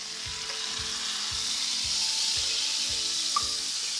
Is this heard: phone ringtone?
no